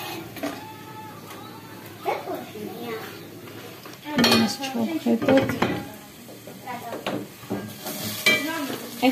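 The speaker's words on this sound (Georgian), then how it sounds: "Ახლა ეს ყველაფერი უნდა ამოვურიო" Ingredients being stirred by hand in a kitchen bowl for Georgian dumplings, with scraping and clinking strokes that grow louder in bursts midway and near the end over a low room background.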